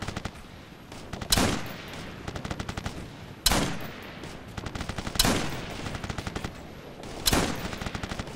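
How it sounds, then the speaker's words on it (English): Heavy automatic gunfire in the military shooter game Operation Flashpoint: Red River, with four sharp loud blasts at even intervals, each followed by rapid rattling bursts of fire, no voices. "They got our range. We're taking heavy fire."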